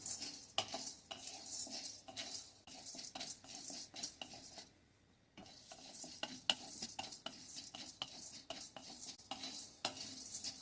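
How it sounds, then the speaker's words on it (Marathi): Dal dry-roasting in a hot kadhai with a little leftover oil for a dry mint-coriander chutney, a spoon scraping and stirring steadily with soft sizzling and metallic clinks, close and fairly quiet, with one brief pause. "म्हणून आपण 1 अर्धा मिनिट फक्त हे भाजून घेणार आहोत."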